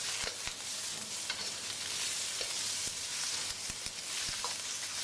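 Ground beef stirred with turmeric, chili, cumin and coriander powder and salt in a pan, a steady soft sizzle with scattered scraping knocks of the spoon, no talking.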